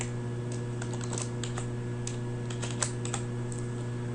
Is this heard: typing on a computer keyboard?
yes